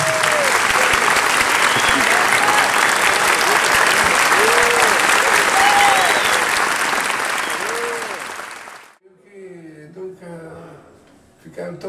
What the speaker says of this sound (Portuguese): Então eu peço uma salva de palmas ao nosso querido Bruno Marx.